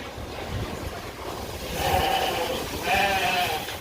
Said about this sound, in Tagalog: Daming baboy, oh.